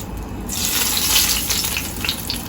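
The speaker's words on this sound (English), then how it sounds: "you can see the sizzle" Steady, hissing sizzle of mutton frying in a hot pan, close by and continuous, with no voices.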